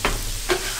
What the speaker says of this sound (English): Starting to release a lot of the fat from the beef right now.